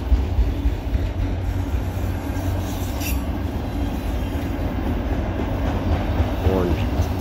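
A CSX autorack freight train carrying a vintage Burlington Northern car rolls past close by, a continuous heavy rumble of wheels on rail with a brief high squeal and rhythmic clatter toward the end, no talk heard.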